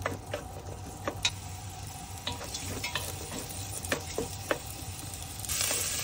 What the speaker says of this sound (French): On met tous les petits légumes d'abord